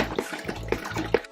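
Cleaning liquid glugs from a bottle into a bucket in short rhythmic pulses, a close, wet gurgling pour with several distinct glugs.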